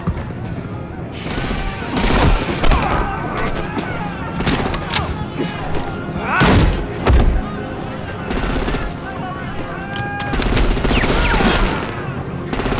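Repeated gunfire bursts and machine-gun fusillades from the video game Batman: The Telltale Series, loud and dense across the whole stretch, with game voices shouting over the shooting.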